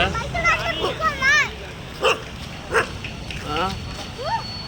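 Dog barks and yips come in short bursts, several of them spread across the clip, mixed with higher whining calls over steady background noise.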